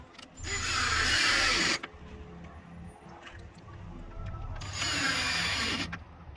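Power tool driving 10 mm bolts on a 2017+ Ford Raptor Gen 2 during a light bar install: two loud, close bursts of high whirring, each roughly a second long, separated by quieter fiddling and small clicks.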